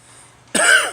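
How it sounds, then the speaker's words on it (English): A single harsh cough bursts out near the mic partway through, sharp and loud after a quiet lead-in, with no speech around it. "Oh, I can't wait for this cough to go away."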